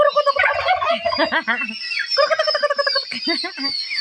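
Turkeys gobble in rapid, warbling bursts close by on a farm at dusk, repeated several times over a steady background.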